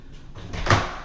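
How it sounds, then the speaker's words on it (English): A house door in an empty home is pushed closed, a brief soft swish ending in a single dull thud of the latch close by. "Try to close that door."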